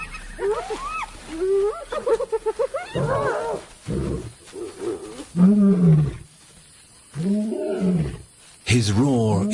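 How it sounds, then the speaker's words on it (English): An old wild lion roars and growls while taking back an impala kill from rivals. The deep, loud, close roars come in repeated bursts separated by short pauses. "His roar is a powerful weapon."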